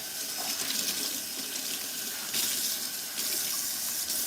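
Water runs steadily from a tap into a kitchen sink for rinsing pots, a close, continuous hiss and splash with slight shifts in flow partway through.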